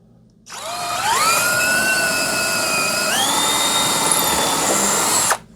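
Power drill boring a pilot hole into the ceiling to mount a FLEXIMOUNTS 3x8 double-layer overhead garage storage rack, a steady loud whine running about five seconds and rising in pitch as the bit spins up.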